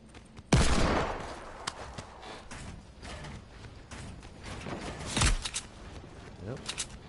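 Fortnite gunfire, as an opponent shoots at a teammate leaving a doorway: a sharp loud shot opens, then scattered distant cracks and a second burst near the end over mechanical game clatter, with talk underneath.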